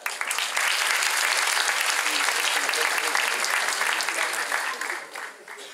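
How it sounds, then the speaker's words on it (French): Loud, dense applause from a talent-show audience, a steady roar of many hands that holds for several seconds before thinning and fading near the end. "Arrêtez pas d'applaudir. Un tonnerre d'applaudissements."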